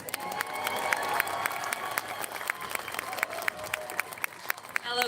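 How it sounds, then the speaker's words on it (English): An audience at a Glasgow rally on Scottish Independence Day claps and cheers for a speaker, a steady wash of applause with sharp individual claps that stays loud for the whole stretch. "Please give a huge round of applause for Iona Soper"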